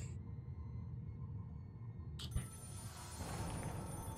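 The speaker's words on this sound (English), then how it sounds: "A phone is ringing." A phone rings inside an amateur horror-style video game, a bright electronic ring starting about halfway through over a low rumbling ambient background, moderately loud with no talk.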